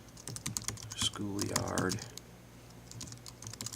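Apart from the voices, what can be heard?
typing on a computer keyboard in screenwriting app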